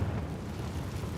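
A Confringo spell explosion in a wizarding video game: a brief, loud, low rumbling blast that holds steady for about a second, with no voices.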